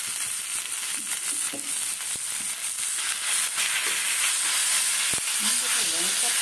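Eggplant hits a hot pan and fries with a constant hissing sizzle, fairly close, while a faint voice murmurs in the background.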